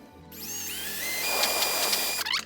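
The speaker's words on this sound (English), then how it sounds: "So now I just need to line that up, start drilling." A power drill whirs up and runs steadily while boring into material, its pitch rising at the start, then stops with a brief rattle near the end.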